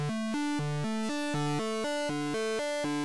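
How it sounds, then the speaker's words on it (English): Omnisphere pulse synth with hard sync turned up to about halfway, giving a sharper, buzzier tone as an arpeggio repeats a short pattern of evenly spaced notes across a few pitches, clear and alone. "we're getting a much kind of like sharper, buzzier sound by turning up the hard sync"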